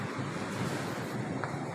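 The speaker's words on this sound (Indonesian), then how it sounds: "angin puting kayaknya nih, puting beliung." Strong, gusty storm wind in Pamulang, a loud, continuous roar of rushing air that holds steady and fills the whole moment without a break.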